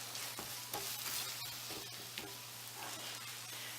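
Eggs being scrambled for breakfast burritos sizzle steadily in a hot pan, with a continuous close frying hiss broken by light scrapes and clicks of stirring.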